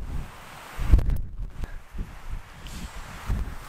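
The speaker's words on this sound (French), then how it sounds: "Il y a un vent hyper fort et surtout à 5 degrés." Blustery wind buffeting the microphone in low rumbling gusts, rising and falling over a few seconds outdoors on the Puy de Sancy summit at 5 degrees.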